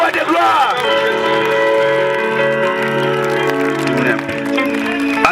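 Crowd at a Christian evangelization campaign in Kenge, Kwango province, cheering and acclaiming in a loud, sustained swell of voices, with music and singing running through it throughout.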